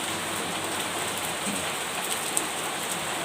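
Steady rain falls outside a house, a continuous even hiss of drops on surfaces that is moderately quiet and has no talk over it.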